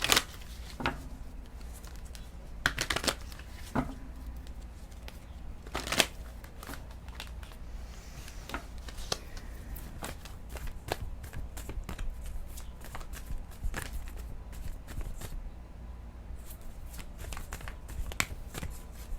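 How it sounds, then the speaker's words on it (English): Soft, repeated riffling and slapping of tarot cards being shuffled close by, in irregular bursts with quiet papery rustles between them; no one speaks. "I'm going to shuffle a little bit."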